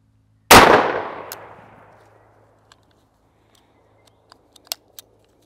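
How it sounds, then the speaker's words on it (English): A single loud Taurus Judge Magnum revolver shot fired at a cardboard target, a sharp blast with a ringing decay over about a second, followed by faint clicks and small sounds. "So I'm gonna just shoot it one more time to find out."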